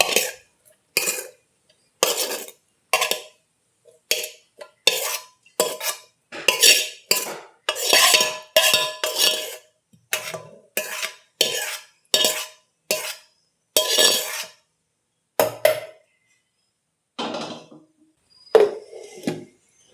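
Coriander and garlic being fried in a pan, with short bursts of metal spatula scraping and clinking against the pan in an irregular rhythm, separated by near silence; no talking.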